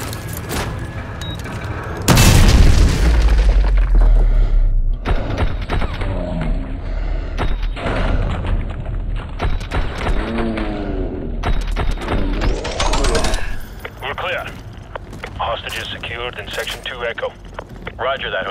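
A breach explosion in Call of Duty Modern Warfare 2 Remastered lands as a sudden loud boom and rumble, followed by gunfire bursts and voices talking over the action.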